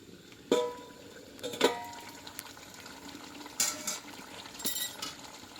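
Pot lid lifted and potatoes dropped into a simmering Bengali mutton curry: several sharp metallic clinks and knocks at irregular intervals over a soft bubbling background, close by, no speech.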